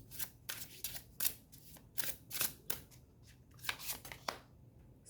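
Tarot cards being drawn and handled, crisp papery flicks and slides in quick irregular bursts, close and soft, with no talking.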